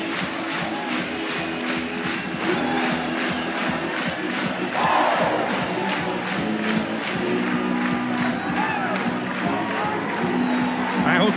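A packed stadium crowd at an NCAA Super Regional baseball game roars and sings after a home run, a broad, sustained wall of voices with rhythmic clapping, while a commentator talks over it.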